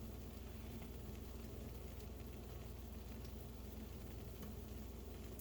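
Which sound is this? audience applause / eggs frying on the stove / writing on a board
eggs frying on the stove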